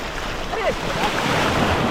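Sea waves break on the shore with a loud, continuous rushing roar during a brief moment of crab fishing by the water.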